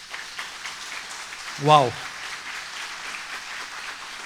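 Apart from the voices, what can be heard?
congregation applauding in church service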